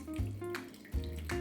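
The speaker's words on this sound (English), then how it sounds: "I'm gonna wet the filter to get the paper taste off" Water poured from a kettle over a paper coffee filter in a V60 dripper, a steady close splashing trickle with short bursts as the stream lands on the paper, with no talking.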